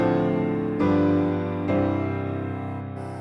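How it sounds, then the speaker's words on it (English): Three sustained piano-like chords play in succession as a two-five-one progression, each struck cleanly and left to ring, forming a short resolving progression with no voices. "2-5-1 sounds like this."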